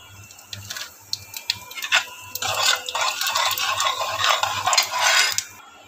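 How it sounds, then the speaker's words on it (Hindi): Whole red chili and cumin seeds dropped into hot oil for a tempering, giving a loud, sustained sizzle that swells after a few light utensil taps, with no talking. "और तेल हमारा गर्म हो चुका है फ्रेंड्स, अब हम इसमें तड़के में डालेंगे 1 साबुत लाल मिर्च और थोड़ा सा जीरा।"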